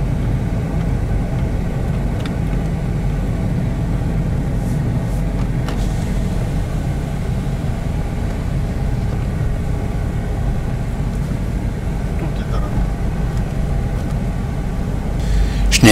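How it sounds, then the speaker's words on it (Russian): A car drives toward a parking lot in Tel Aviv, its steady engine and road rumble running low and constant inside the cabin with no talk. "Это мы сейчас едем на парковку."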